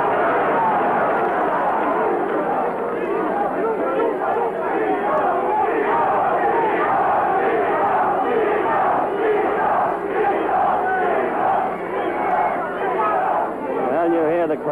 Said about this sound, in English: you hear the crowd for yourselves